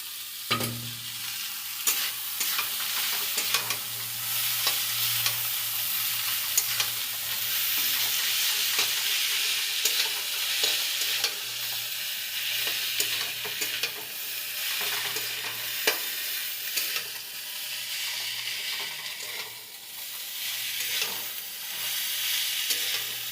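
Soaked chow mein noodles stir-frying with carrots and onions in a pan, a steady crackling sizzle broken by repeated scrapes and tosses of a spatula, close-up and sustained, with no one talking.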